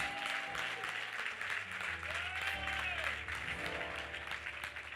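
A congregation at a special church service applauds steadily, with a voice and music-like tones mixed under the clapping.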